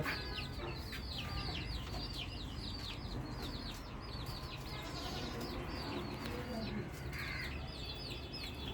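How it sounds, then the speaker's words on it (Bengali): Chickens on a small backyard home farm give repeated, steady clucks and chirps against a constant low background hum, with no voices heard. "খামারে এখন আছে হাঁস মুরগি"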